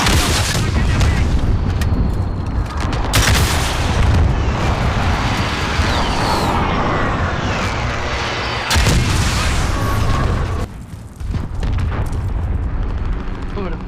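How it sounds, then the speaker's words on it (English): Enemy precision airstrike in the military shooter Squad: loud, close, overlapping blasts and booming impacts rumble almost continuously, with sharp bursts around the middle and a brief lull near the end, while voices may be faintly mixed in. "Enemy precision airstrike, get down!"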